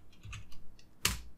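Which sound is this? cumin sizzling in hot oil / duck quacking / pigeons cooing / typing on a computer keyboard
typing on a computer keyboard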